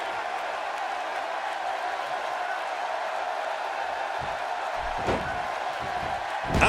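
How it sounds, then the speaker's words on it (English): A WWE 2K16 arena crowd at an NXT event in St. Louis keeps up a steady, loud roar of cheering throughout, with a few sharp slam-like impacts near the end. "Another great crowd here in St. Louis."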